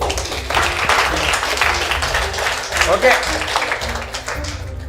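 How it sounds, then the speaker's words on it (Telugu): An audience at a make-up academy event claps loudly and continuously, with a voice speaking briefly over the applause. "కొట్టండి మరి క్లాప్స్ గట్టిగా"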